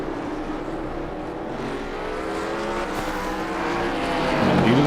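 Race cars in a national series event at Lernerville roar steadily along a dirt track, a loud continuous engine drone that swells as cars close in near the end, with no talk.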